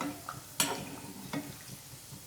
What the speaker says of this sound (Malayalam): തിരിച്ചും മറിച്ചിട്ടിട്ട് തന്നെ നമുക്കിത് ഫ്രൈ ചെയ്തെടുക്കാം